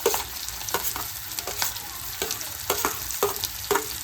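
Sliced onion and green chili fry in a pan for a catfish egg fry, a steady close sizzle broken by sharp scraping stirs roughly every half second, with no voices.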